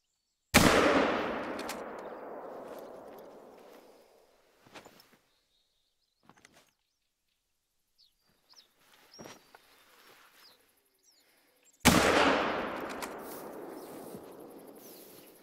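Rifle shots in the hunting video game theHunter Call of the Wild: two loud, close, sharp blasts with long decaying tails about eleven seconds apart, and faint small clicks and ambient game sounds in between.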